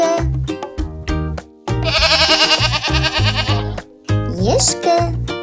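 A goat lets out one long, loud, quavering bleat, set between shorter tonal sounds with rhythmic low thumps before and after.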